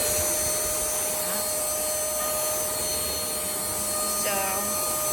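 Airbot Supersonics vacuum cleaner running on a higher suction mode, a steady loud whining roar with a constant high tone, with faint voice-like sounds over it.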